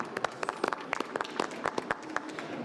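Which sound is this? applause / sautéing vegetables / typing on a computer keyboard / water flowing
applause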